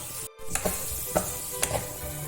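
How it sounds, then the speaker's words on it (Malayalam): Chopped tomato sautéing in a pan for chicken curry, a steady close sizzle with periodic scraping stirs of a spoon against the pan. "ഈ ഒരു തക്കാളി ചെറുതാക്കി മുറിച്ചതാണ്, അത് ഇതിലിടുന്നുണ്ട്. എന്നിട്ട് ഇതൊന്ന് നല്ലോണം ഒന്ന് വഴന്ന് വേണം."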